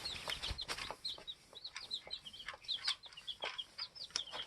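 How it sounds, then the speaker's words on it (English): Chickens clucking and ducklings peeping in quick, busy bursts, fairly close, with scattered scratching and shuffling sounds. "The little ducklings and the chickens."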